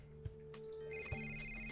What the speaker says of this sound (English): Why would the phone ring if you're giving the call?